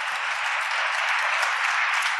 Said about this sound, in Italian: Io farei un applauso su questo